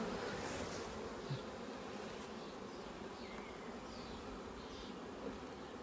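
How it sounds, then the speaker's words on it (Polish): A dense, steady buzzing of a large honeybee swarm, a primary swarm, fills the air, a continuous droning hum with no voices. "Zobaczcie jaki tu jest wielkości rój"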